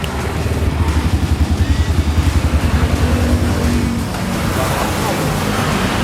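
A Honda Benly 90 trail motorcycle engine chugs with a fast, even pulsing beat. It is close and fairly loud, then eases into a smoother, steadier run.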